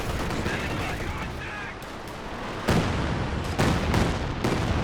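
A creeping artillery barrage in the Company of Heroes 2 video game rumbles under ongoing battle noise, with several heavy shell impacts landing in quick succession in the second half while someone talks.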